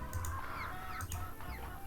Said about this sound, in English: There's some mean chickens out there.